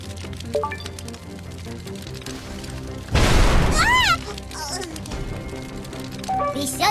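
In an educational video game, an electrical outlet set alight by humidifier moisture bursts in a single loud, noisy blast lasting about a second, surrounded by game music and chimes.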